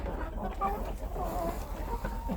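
Mixed-breed hens, Australorps, Cochins and bantams cluck softly in short, scattered bursts close by in winter, over a low background rumble.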